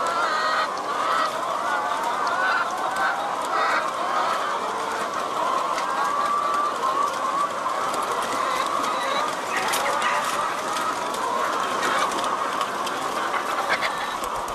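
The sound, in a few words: chickens clucking in a henhouse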